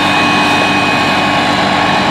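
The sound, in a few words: Challenger MT875C tractor engine pulling an air drill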